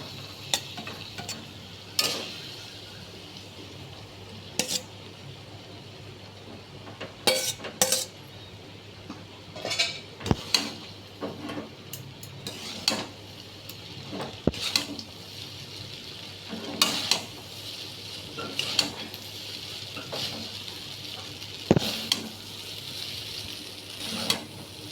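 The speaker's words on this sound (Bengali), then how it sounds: "সিম আঁচে দিয়ে আস্তে আস্তে আমি ভাতটাকে এটা দিয়ে ভেজে নেবো একটু" Cooked lemon rice is stir-fried slowly in a pan over low heat, a steady gentle sizzle broken by frequent sharp metallic scrapes and clinks of the spatula against the pan. No one talks.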